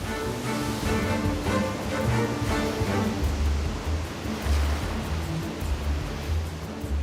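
Heavy ocean surf breaks and churns just offshore from a sea-turtle nesting beach, a continuous loud roar of crashing waves with rumbling low swells and no voices.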